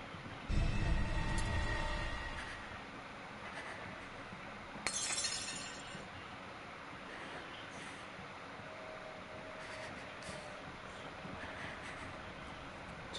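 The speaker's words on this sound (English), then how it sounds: "Somebody broke glass." Glass shatters in the horror video game Resident Evil Village, a sharp crash at the start with a second crunching burst a few seconds later, over a low eerie ambient rumble.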